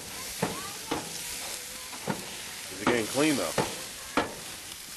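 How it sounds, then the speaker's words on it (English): Water from a Grill Daddy Pro brush hits a hot grill grate, sizzling and hissing in sharp repeated bursts of steam while a person talks nearby. "releases a steady stream of water onto the grill. Sizzling. It is sizzling."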